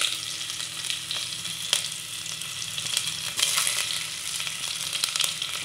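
Onions frying in a hot pan for liver adobo give off a steady, close sizzle with occasional crackles and stirring clicks, continuous and unaccompanied by talking.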